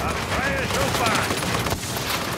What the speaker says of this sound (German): Er schießt, habe ich gehört